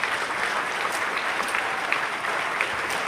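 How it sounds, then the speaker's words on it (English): Sustained applause from an audience at an AUSA event honoring the Fishburne Military School color guard, dense steady clapping filling the whole moment at an even loudness. "Ladies and gentlemen, please give him another round of applause"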